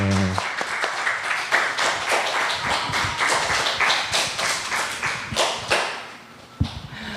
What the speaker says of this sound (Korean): 여러분 박수로 환영해 주시면 좋겠습니다